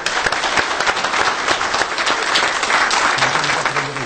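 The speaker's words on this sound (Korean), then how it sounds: "박수로 맞이해 주십시오." An audience at a Korean presidential candidate debate broadcast applauds to welcome Democratic United Party candidate Moon Jae-in, a dense, steady clapping that holds loud throughout with no voices over it.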